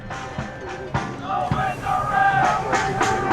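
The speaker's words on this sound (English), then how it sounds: "The crowd is into it." A crowd at a soccer match between Lane United FC and the Portland Timbers U23 cheers and shouts. Bursts of yelling rise and fall over a busy stadium hubbub. Loud whistles or shouts cut through near the end.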